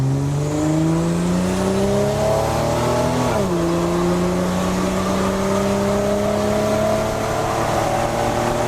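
Buick Grand National barn find accelerating hard from a standstill, engine revving loud and close with a rising drone, a quick drop at the gear shift, then climbing again steadily.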